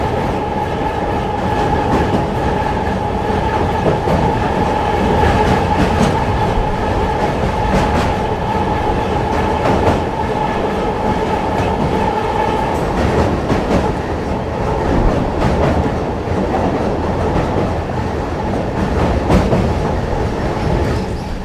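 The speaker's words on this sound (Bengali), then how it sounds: "Azimganj Baharampur court MEMU passenger Nasipur rail ব্রিজের ওপর থেকে ছুটে চলছে" An Azimganj–Berhampore Court MEMU passenger train crosses the Nasipur rail bridge over the Bhagirathi river, making a loud, steady rumble with continuous wheel clatter close by throughout.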